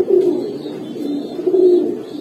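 A Giribaz pigeon coos close by in about three clear, low, rolling calls with short gaps between them, with no other sound.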